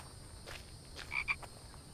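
A frog in a video game gives a few short, faint croaks over a soft ambient background, with no talk.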